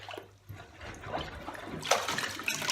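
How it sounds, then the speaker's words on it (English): A plastic-bagged toilet brush plunged into a clogged toilet bowl produces close, sloshing water sounds, soft trickles building to a brief louder splash toward the end. "very carefully insert the toilet brush and then give it a plunge"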